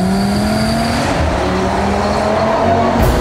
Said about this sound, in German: Allerdings bekommt man dafür einen einzigartigen 5-Zylinder-SUV mit einem göttlichen Klang.